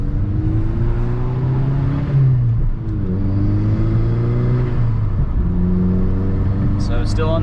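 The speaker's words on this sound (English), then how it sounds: "you can actually hear the turbo spooling a little louder too" VW MK6 GTI fitted with an HPA K04 turbo, engine droning and revving up in pulls with a faint turbo whistle riding above, loud and close, engine noise continuous throughout.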